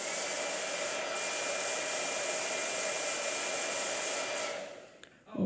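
A blow dryer runs steadily at close range with a constant high whirring roar for about five seconds, then cuts off, leaving a brief soft thump and rustle at the end.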